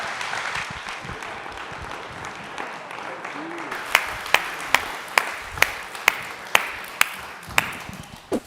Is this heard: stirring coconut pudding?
no